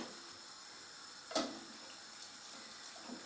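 Cider sauce poured over rabbit in a pan, a soft steady trickle of liquid with a brief louder splash near the middle, quiet and close.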